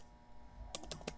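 Typing on a computer keyboard, several quick soft keystrokes clustered in the second half after a quiet pause, close and faint with no voice.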